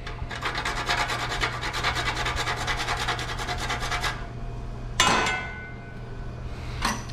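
Whole nutmeg is rubbed against a kitchen grater for a white sauce, a steady rapid rasping scrape that stops after about four seconds, followed by a sharp clink and another short scrape.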